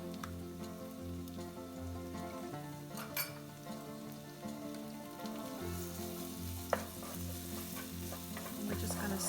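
Onion and garlic sizzle steadily in a frying pan while a utensil stirs them, with soft scraping and occasional clicks over the continuous crackle.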